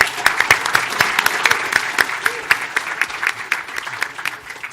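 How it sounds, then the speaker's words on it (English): An audience at a business panel discussion on the state of the cannabis industry claps for its panelists, a dense round of applause filling the room steadily for several seconds. "let's wrap it up with a round of applause for our panelists"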